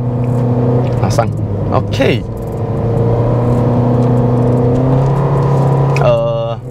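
A 2021 Toyota Yaris 1.5G facelift engine hums steadily at mid revs on a test drive, its tone shifting as speed changes, with someone talking over it throughout and a brief clatter near the end.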